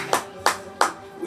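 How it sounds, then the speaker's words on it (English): Three sharp hand claps ring out at a live rap performance, evenly spaced and close, each a quick crisp smack with brief quiet between. "Yeah, you can clap."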